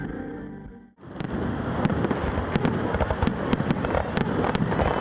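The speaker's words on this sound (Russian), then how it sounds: "В завершении праздника в небе прогремел салют." A fireworks salute at a City Day celebration in Nizhnekamsk explodes overhead, sharp cracks and pops crackling repeatedly over a continuous rumbling roar, loud and dense after a brief pause.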